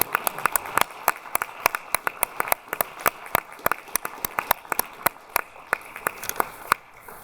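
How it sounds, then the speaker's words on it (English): At an honor society induction ceremony, an audience gives inductees a round of applause: a steady run of crisp individual claps, fairly sparse and even in rhythm, with no speech over them. "let's give all of our inductees a final round of applause"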